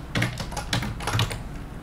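Fast typing on a computer keyboard during programming, a dense run of close, crisp key clicks in uneven bursts with no talk.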